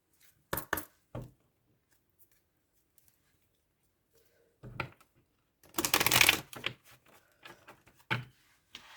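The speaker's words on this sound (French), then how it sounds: "je vais prendre quelques cartes pour le professionnel." Tarot cards being shuffled and drawn: sharp papery snaps and flicks in short separate bursts, with a longer riffle in the middle, close and clear against an otherwise quiet room.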